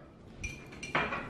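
An ice cube drops and clinks against a hard surface at home, giving a few faint, close glassy ticks and one brighter clink.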